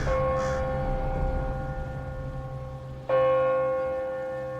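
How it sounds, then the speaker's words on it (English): A church passing bell tolls two slow strikes, each ringing out with a long humming decay, the second louder than the fading first. "came the slow tolling of the passing bell."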